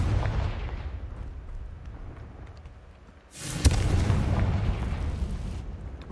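A Confringo fire spell bursts in the video game Hogwarts Legacy: a sudden loud blast lands mid-clip with a sharp crack at its onset, followed by a sustained roaring rumble, set against a quieter low background beforehand.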